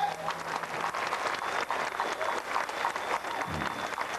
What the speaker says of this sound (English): Big round of applause for the CCMI.